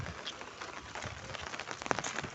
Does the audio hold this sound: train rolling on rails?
no